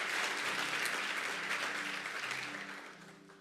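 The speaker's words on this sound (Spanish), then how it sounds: "Denle un fuerte aplauso al Señor." Church congregation applauding during a Sunday service, a broad wash of clapping that fades gradually toward the end, with a faint low tone sustained beneath it.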